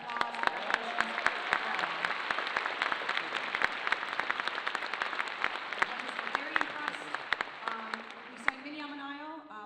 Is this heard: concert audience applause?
yes